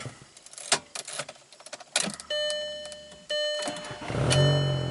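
A 2003 VW Jetta engine with its check engine light on cranks with a few sputtering bursts, then catches and settles into a steady running hum with some whining tones on top.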